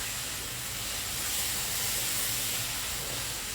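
Mango pulp goes into hot semolina sheera and sizzles in the pan as a dense, steady hiss, close and continuous with no talking.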